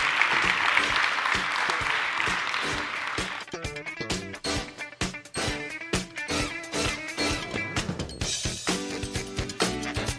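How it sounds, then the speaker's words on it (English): An audience at a MEDA annual meeting applauds award recipients, dense clapping for the first few seconds before giving way to music with distinct notes and beats. "one more round of applause for our recipients, Joseph and Andrea"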